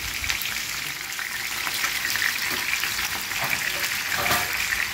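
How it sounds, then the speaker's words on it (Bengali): Eggplant frying in hot oil in a wok, a steady close broadband sizzle with faint crackles running throughout, no voices. "আর এখানে যে কড়াইটা তেল গরম করছি এতে আমি বেগুন ছেড়ে দিচ্ছি"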